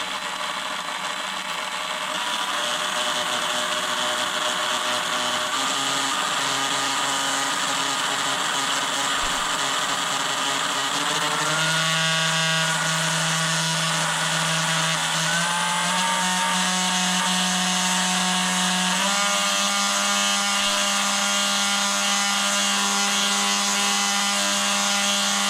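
A Carrera slot car motor breaking in with its wheels spinning freely, producing a steady, loud mechanical whine whose pitch steps up and shifts several times over a continuous running hum.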